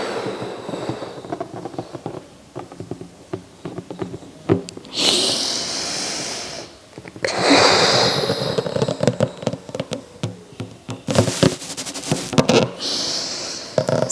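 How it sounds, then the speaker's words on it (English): A balloon is blown up with forced exhales, giving bursts of breathy rushing air over a noisy, crackling background, loud and close with several strong blows toward the end. "I'm not just sitting up and blowing the balloon,"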